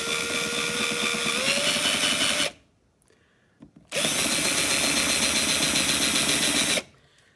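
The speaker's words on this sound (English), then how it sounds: "I'm just running the drill bit in reverse because I don't want it to take off on me" Power drill spinning a countersink bit in reverse on a cracked C3 Corvette interior trim panel, two loud steady whirring runs of several seconds each, separated by a short quiet gap with a faint click.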